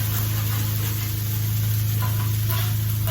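Jambalaya fried rice sizzles steadily on a Blackstone griddle while being stirred and moved across the hot surface, with a constant loud frying hiss, close up, and a low hum underneath.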